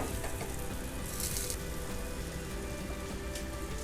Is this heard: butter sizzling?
yes